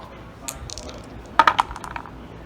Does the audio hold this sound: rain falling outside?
no